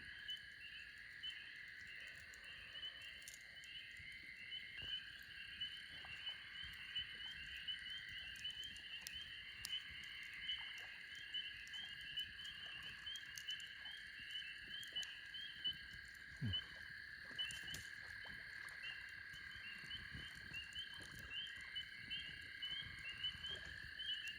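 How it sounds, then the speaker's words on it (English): Frogs chorus continuously on a quiet night at a campsite in Daniel Boone National Forest, Kentucky, a dense pulsing trill layered with faint insect buzz, distant and steady. "The frogs."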